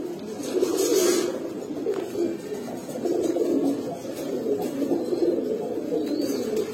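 Pure-bred Tuina pair of high flyer pigeons cooing close by, a steady run of low throaty coos repeating through the clip with faint background noise.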